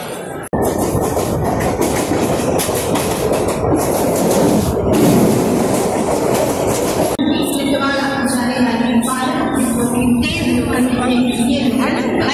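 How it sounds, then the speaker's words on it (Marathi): A passenger train on the Akkalkot to Mumbai route rumbles steadily from inside a carriage, wheels clattering on the rails, with muffled voices heard later in the ride. "फायनली आम्ही ट्रेनमध्ये बसलेलो आहोत."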